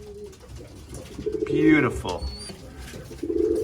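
A young late-bred pigeon coos briefly in hand during a vaccination and health check, a soft close warble in the middle of the clip with a person talking around it.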